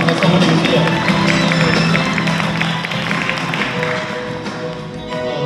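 A seated audience at an academic history conference claps steadily, a dense, even patter of many hands that holds for several seconds and slowly thins toward the end.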